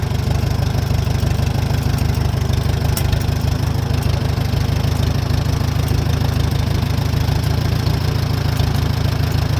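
An antique tractor engine idles close by, a loud, continuous low rumble with an even knocking pulse and no voices over it.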